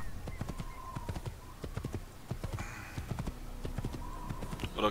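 Clip-clop of horse hooves from riding in Assassin's Creed, a steady rhythmic trot with a whinny near the end, close and clear over game ambience.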